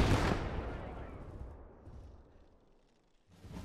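Vehicle explosion in the Gates of Hell war game: a loud, close blast opens, followed by a long rumbling decay that fades, then a second burst of noise near the end.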